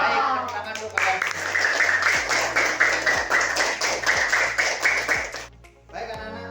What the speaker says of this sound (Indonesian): Baik, tepuk tangan dulu kalian.